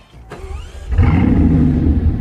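A Bugatti Chiron Super Sport's W16 engine starts up: a brief whirring crank, then the engine catches with a loud, deep, rumbling idle that carries on steadily at close range.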